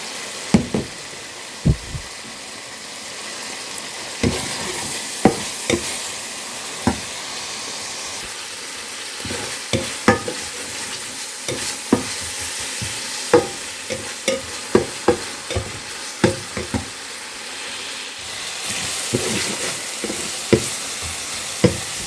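Ginger-garlic spice paste stir-frying in a pan for a Bengali-style barramundi fish curry: steady sizzle and hiss broken by repeated sharp knocks and scrapes of a spoon against the pan, close and without speech.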